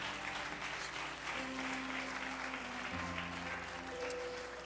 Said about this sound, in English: So would you just cheer for these awesome people?